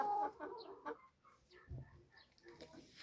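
A 5-kilogram chicken clucks in short, soft bursts nearby, with faint talking mixed in underneath.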